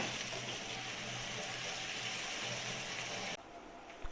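Water is poured into a hot pan of frying spices with ginger-garlic paste, raising a loud, broad sizzling hiss that holds steady for a few seconds, then drops abruptly to a quieter simmer.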